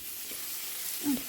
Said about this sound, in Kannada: ಫ್ರೈ ಮಾಡ್ತಾಯಿದ್ದೀನಿ ನಾನು